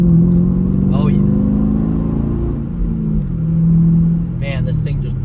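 A 2010 Chevrolet Camaro SS V8 rumbles and pulls under acceleration from inside the cabin. The low engine drone is loud and steady, and someone talks briefly over it.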